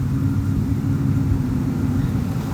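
A Ford Mustang engine idling at a tire shop, a steady low rumble with a loud, continuous, even tone and no speech.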